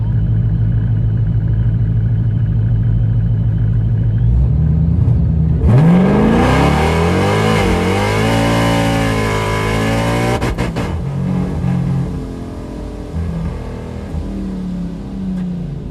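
A supercharged Scat Pack muscle car engine idles with a deep rumble, then roars to full throttle on a drag racing run, its pitch climbing through gear changes before fading into the distance.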